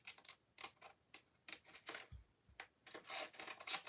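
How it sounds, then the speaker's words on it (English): Scissors snip through decoupage paper in a series of quick, crisp cuts, some in fast bursts, heard close and faint with no talking. "let me take the big scissors and get rid of a lot of the excess first"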